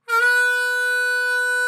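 A harmonica holds a single sustained, reedy note with rich overtones, loud and steady for under two seconds, part of line 7 of a solo.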